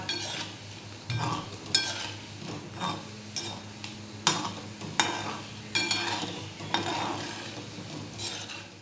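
Fasting kachori fry slowly in oil over a low gas flame, a steady soft sizzle broken by repeated scraping and stirring knocks of a utensil against the pan, close by with no talk.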